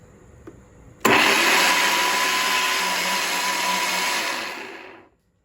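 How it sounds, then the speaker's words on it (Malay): An electric blender kicks on abruptly and roars for about four seconds, grinding boiled dried chilies and other ingredients into a fine paste, then winds down to silence. "Okey, kisar halus bahan-bahan ni."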